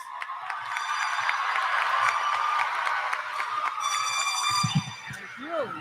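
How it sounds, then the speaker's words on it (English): Applause and cheering from a crowd honouring the graduates at the Farrington High School 2022 commencement ceremony. It is a steady, dense wash of clapping with horn-like tones sounding partway through, and it thins slightly near the end. "How about another round of applause for our graduates?"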